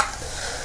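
Hot cooking oil sizzles steadily in a pot for a short moment, a close, even hiss with no talk over it, as preparation begins for a Thai chicken curry.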